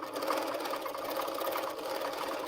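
A Handi Quilter Moxie long-arm quilting machine stitches steadily with a fast, even mechanical chatter that stays close and loud for the whole stretch, with no pauses.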